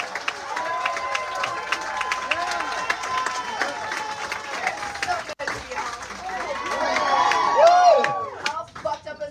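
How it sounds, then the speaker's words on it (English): Live audience at a comedy show in New Orleans clapping and cheering, with whoops and shouted voices over steady applause that swells toward the end, loud and close, with talk mixed in. "people are actually standing and clapping for this bitch"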